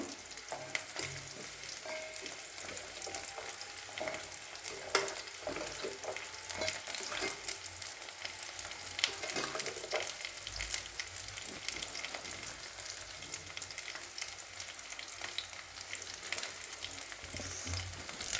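Jackfruit frying in a pan for a Bengali lunch, giving a steady, moderate sizzle with occasional stirring clinks throughout and no talk.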